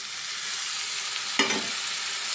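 Fenugreek leaves fry in a pan with tomato and onion, giving a steady hiss of sizzling oil and one brief stirring scrape midway.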